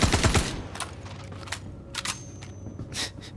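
Gunfire in the Star Citizen video game: a quick burst of close, sharp shots at the start, then a few scattered single reports and clicks spaced through the rest.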